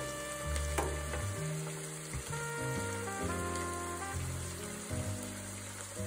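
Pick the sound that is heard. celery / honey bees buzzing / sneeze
celery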